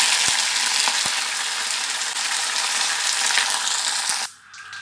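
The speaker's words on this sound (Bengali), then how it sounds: "সর্ষে শুকনো লঙ্কা চটর পটর করছে" Mustard seeds and dried red chillies crackling in hot oil, a loud dense close sizzle with occasional sharp pops that drops away abruptly near the end.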